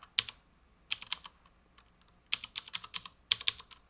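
Typing on a computer keyboard comes in short bursts of crisp key clicks with brief pauses between them, close and fairly quiet, with no talk.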